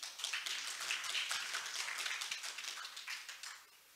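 Audience applause at a forum on Jeju internationalization, a dense steady patter of many hands clapping for a few seconds, fairly close, fading toward the end with no speech over it.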